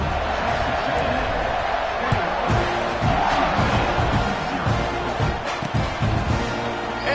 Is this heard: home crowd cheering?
yes